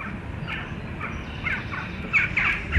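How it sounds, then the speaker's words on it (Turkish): Crows caw in a radio drama sound effect, a series of short harsh calls over a steady noisy outdoor bed, growing louder and more crowded toward the end. "Ne istiyor bu kargalar?"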